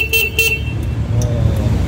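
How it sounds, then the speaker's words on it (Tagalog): New scooter's horn giving two short close honks, then a quieter tail of low engine or street rumble. "Pakinggan natin busina."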